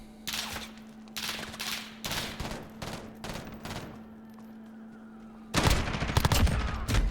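Repeated bursts of gunfire in a Modern Warfare beta team deathmatch, clustered volleys with short gaps, then a louder, denser stretch of rapid shots near the end over a steady low game hum.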